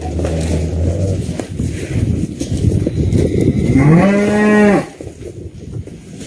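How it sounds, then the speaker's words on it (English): Cattle on a ranch: one long, loud, close moo swells and falls in the middle, set against outdoor rumble and a faint engine-like drone. "All over, cows."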